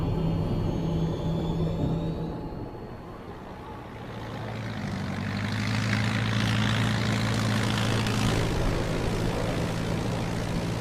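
An airplane engine drones in flight from inside the cabin in an action film, a steady, rumbling hum that swells slightly and then holds for several seconds.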